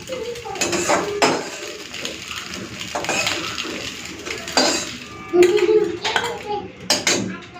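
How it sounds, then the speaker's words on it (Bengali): Egg bhujia scooped from a pan into a bowl with a spoon, giving several close, sharp metallic scrapes and clinks of utensil on cookware, spaced irregularly with quieter handling between them. "তো হয়ে গেছে, এখন আমি একটা বাটির মধ্যে ঢেলে নিই।"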